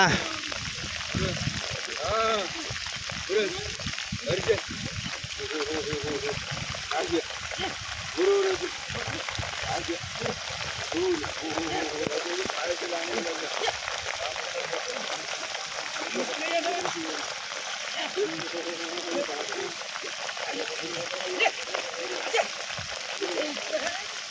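Heavy monsoon rain pours over the flooding Bharja river and nearby rice fields in Mandangad taluka, a dense, steady rushing hiss that runs the whole time beneath people talking close by.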